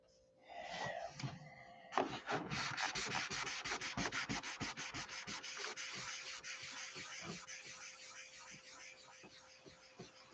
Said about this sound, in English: I need to sand those out real quick.